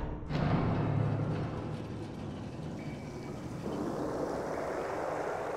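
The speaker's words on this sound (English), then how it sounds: "Oh, flowing water again." Flowing water in the sewer area of the video game Hollow Knight, a steady, dense rushing wash that runs continuously at moderate loudness with no talk over it.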